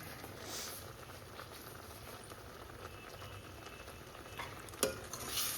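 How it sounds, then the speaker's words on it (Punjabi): A ladle stirs masala in a kadhai for a mushroom and pea sabzi, giving a steady soft scraping and sizzling texture with occasional sharper scrapes near the end, close by and fairly quiet. "ਕੜਛੀ ਵੀ ਆਪਾਂ ਚਲਾਈ ਜਾਣੀ ਹੈ ਕੜਾਈ 'ਚ ਨਹੀਂ ਲੱਗਣ ਦੇਣਾ ਪੈਣਾ ਮਸਾਲਾ ਨਾ ਥੱਲੇ ਲੱਗ ਜਾਂਦਾ"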